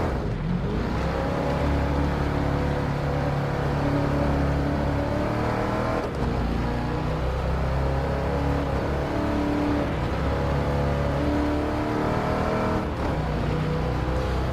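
A 1978 Pontiac Trans Am V8 in Gran Turismo Sport roars steadily around a dirt rally track, its engine droning loud and continuous with slight rises and falls in pitch and no voices over it.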